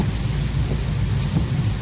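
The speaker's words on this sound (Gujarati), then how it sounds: "જો વરસાદ તો હજી બંધ થયો નહીં" Heavy rain roars steadily during a car drive home in a storm, a dense low rumble of downpour and thunder filling the whole moment at fairly loud level.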